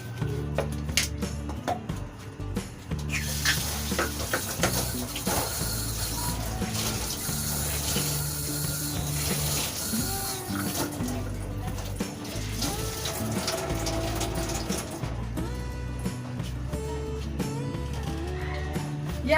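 Water runs steadily from a tap into a sink as a cloth is wetted and wrung out in a home kitchen during biryani preparation, a constant splashing wash heard close up, with no talk.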